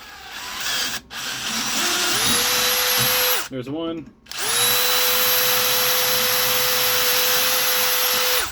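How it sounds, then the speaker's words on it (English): Close, loud power drill whirring as it bores 11/64 holes through thin metal on a 1977 Toro snowblower, in two long sustained runs split by a short pause, with someone briefly speaking between them. "Now we're just going to drill it out here with the drill."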